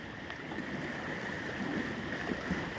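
The flooded Godavari river rushes in a steady, broad wash of moving water, continuous and moderately distant, with no voices.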